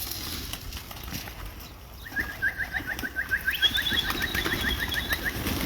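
Young birds offered for sale in an Iraqi bird market give rapid, repeated high calls. The calls start about two seconds in and continue steadily over a noisy background.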